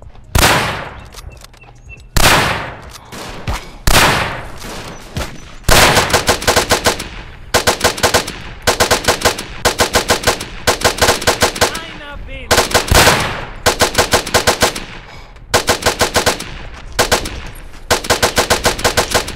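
A mounted machine gun in the trench-warfare game Verdun fires in repeated long bursts of rapid, loud, close shots, separated by brief pauses, with a few single shots at the start.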